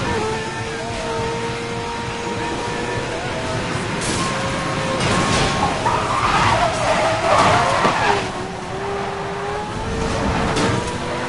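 Tires skid as a Porsche drifts in Need for Speed Most Wanted, a long rising screech over the engine roar that swells in the middle and then eases off.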